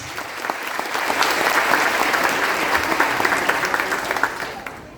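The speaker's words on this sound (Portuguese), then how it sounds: "Aplauda a palavra de Deus." A church congregation bursts into sustained applause, many hands clapping together in a dense, steady roar that swells after the first second and holds strong to the end, with no talk over it.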